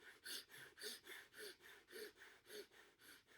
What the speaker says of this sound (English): What you can do is called fire breathing, where you are breathing in and out really, really quickly through the nose.